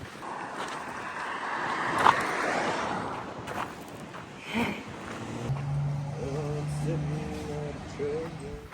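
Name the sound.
wind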